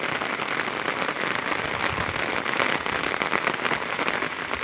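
Heavy, unbroken rain pours down in a steady dense roar that stays loud and even throughout, with no voices.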